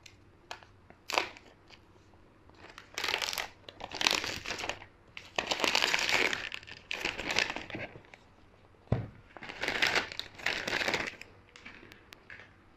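A red Apple iPhone XR box being unboxed, with bursts of close paper and plastic crinkling and rustling separated by brief quiet pauses.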